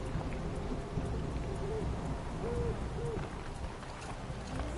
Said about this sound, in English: Oh, I love the sound of that owl.